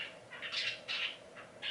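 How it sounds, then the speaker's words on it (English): Two small pet birds chirp and squawk indoors in a run of short, bright calls that rise and pause, moderately close, with no talking over them. "I have 2 little birds. Yeah, that's why it's so noisy in here."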